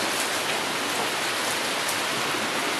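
Steady rain pours in Islamabad around dusk, a dense, even hiss of drops on surfaces and trees, close and continuous throughout with no voices.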